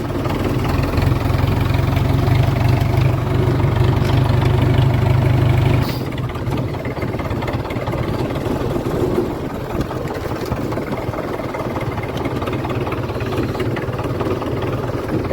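A tractor engine runs steadily while spraying a wheat field, a loud continuous drone that drops in pitch and level after about six seconds and then holds an even, rough hum with no voices.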